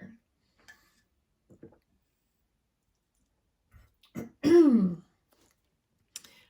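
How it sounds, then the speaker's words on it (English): A woman coughs and clears her throat after choking, a few soft clicks and small noises followed by one loud, rasping throat-clearing burst, with a faint click afterward in an otherwise quiet room. "I'm not going to ditch this whole video because I coughed"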